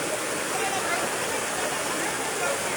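Flood water rushes across a river crossing during heavy rain, a steady broadband roar of churning water heard throughout, with people talking over it.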